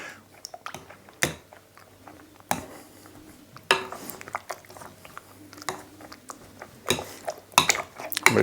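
A potato masher works eggs into gluten-free dough in a bowl, giving irregular clacks and knocks against the bowl with sticky squelching between them, close and busy throughout.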